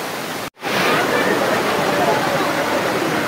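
Tanawan Falls in Dingalan, Aurora, pours in a loud, steady roar of rushing water close by, broken by one brief silent gap near the start.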